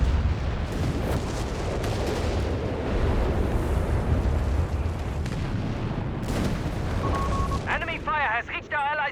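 Artillery fire and explosions pound an Axis base in the Company of Heroes 3 strategy game, a dense roar of booming blasts and rumbling impacts, with a commentator talking over it and brief warbling effects near the end.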